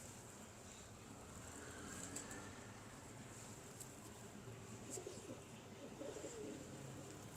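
Pigeons kept by a pigeon fancier coo faintly and intermittently against a steady, noisy outdoor background, with no talk.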